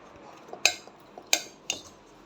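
A spoon stirs a protein laddu mixture with dry ginger in a metal pan, giving three sharp, close metallic clinks spaced apart over a quiet background.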